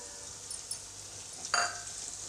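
A steady frying sizzle of vegetable fried rice in a pan, with coriander leaves, pepper powder and garam masala just added, and a brief louder scrape of stirring midway.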